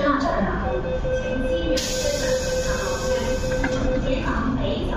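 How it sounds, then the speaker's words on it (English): MTR subway train arriving at Tiu Keng Leng station platform in Hong Kong, a steady rumbling roar with a sustained hiss of wheels and air, loud and continuous, with station announcements heard over it. "The train to North Point is arriving."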